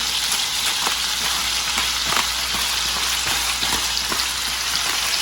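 Chopped onion seasoned with salt and pepper fries in a pan for braised short ribs, giving a steady, dense sizzle with crackling pops throughout, close and continuous with no talk.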